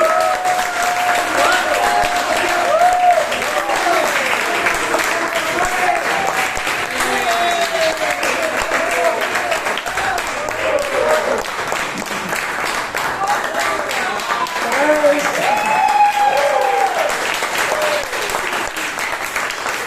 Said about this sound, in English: I wanted to give a big round of applause.